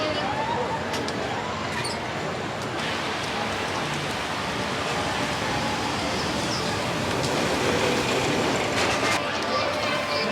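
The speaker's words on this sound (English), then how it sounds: "Now we're off to Seven Dwarves Mine Train." The Seven Dwarfs Mine Train ride at Magic Kingdom gives off a continuous loud rolling rumble of coaster cars on track, with crowd noise and occasional voices blended into the roar.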